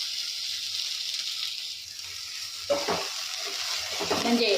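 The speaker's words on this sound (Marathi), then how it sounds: "आता आपण यामध्ये ही शेपूची भाजी टाकत आहोत या आपण भाजून घेणार आहोत" Dill greens sautéing in oil: a continuous bright sizzle, then scraping stirs and a few soft clatters toward the end, with no voices.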